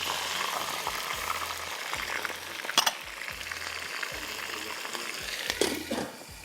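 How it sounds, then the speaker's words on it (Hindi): Curry leaves and coarsely ground raw onion sizzle loudly in hot Italian olive oil, a steady broadband crackle with two sharper bursts of spattering near the middle and end, plus low thumps of handling. "इसमें हम डाल रहे हैं कड़ी पत्ता और एक बड़ी प्याज कच्ची पिसी"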